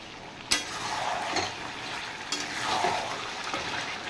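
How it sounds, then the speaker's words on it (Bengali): Desi chicken frying in a pan with ginger, garlic and green chilli paste, salt and turmeric, a soft steady sizzle broken by a few sharp clinks of a spoon stirring against the pan, fairly quiet. "মাংসটা ভাজা ভাজা হয়ে গেছে"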